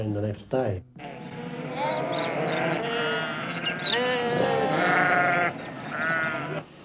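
Sheep bleating during shearing, one long wavering bleat after a couple of short clattering knocks, close and loud, with other voices faintly mixed in.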